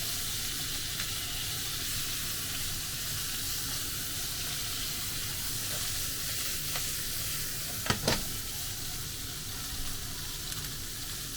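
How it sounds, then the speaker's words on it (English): Continuous loud sizzling of vegetables being stir-fried in a pan for yakisoba, with a few sharp clinks of a utensil against the pan partway through. "I keep stir frying the vegetables."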